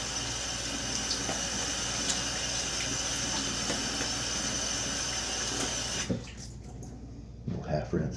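Tap water running steadily into a sink for rinsing during a wet shave, a dense broadband rush lasting several seconds before it is shut off, then quieter handling sounds.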